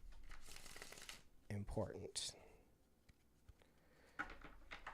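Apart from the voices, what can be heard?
shuffling tarot cards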